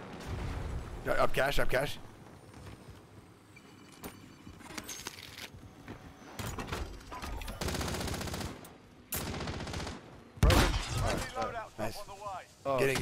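Gunfire cracks and bursts from a Warzone video game firefight, including sniper shots, come in loud clustered volleys between quieter stretches while players talk over the action.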